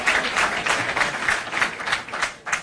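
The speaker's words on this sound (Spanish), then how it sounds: "para quien pido también un fuerte aplauso" An audience applauds at a Venezuelan political gathering held a year after the plebiscite, near the National Assembly chamber. Steady, dense clapping rises in repeated swells over about three seconds, with no voices over it.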